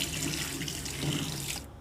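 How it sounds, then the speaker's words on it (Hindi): Tap water runs steadily into a sink as salted bitter gourd pieces with turmeric water are rinsed, a close, continuous splashing that stops abruptly at the end. "अब मैं इनको वॉश करूँगी ताकि इनका नमक और ये हल्दी का पानी जो है ना बिल्कुल ख़त्म हो जाए।"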